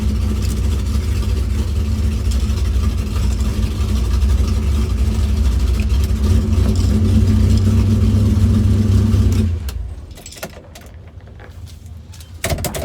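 A 1965 Impala SS makes a drag strip time trial run, its heavy engine roaring steadily and loud for several seconds before cutting off abruptly into quiet.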